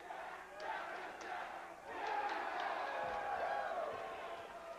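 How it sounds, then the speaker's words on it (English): A wrestling arena crowd cheers for Captain Jack, a broad roar of voices that swells and then holds steady. "Fans cheering on Captain Jack."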